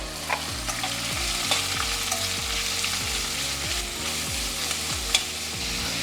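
Onions sautéing in oil in a pan while being stirred for mutton kuzhambu, a continuous close sizzle with rhythmic spatula scrapes and no talking.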